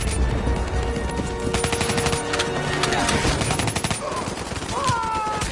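Sustained automatic gunfire and rapid bursts from a Call of Duty Black Ops 3 co-op campaign firefight, dense and loud throughout, with scattered game voices mixed in.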